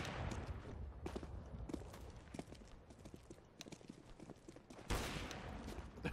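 Gunshots in the video game CS:GO: rapid, clustered cracks and clattering bursts over a constant rumbling bed, faint overall, with a louder swell of noise near the end and no clear talking.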